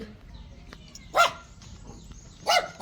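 Two sharp dog barks about a second apart over a low, quiet background during a cat rescue, moderately close.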